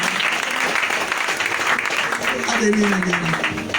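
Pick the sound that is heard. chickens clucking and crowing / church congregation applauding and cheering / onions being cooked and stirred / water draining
church congregation applauding and cheering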